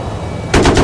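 Machine gun mounted on an Abrams tank in the Battlefield 3 video game, a loud, rapid burst of automatic fire that starts abruptly after a quiet moment and continues close up.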